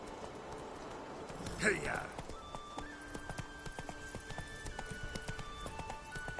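Hooves of Roach, Geralt's horse in The Witcher 3, clip-clop in a steady running rhythm through a game soundscape, with a brief burst of other sound and a short spoken interjection early on.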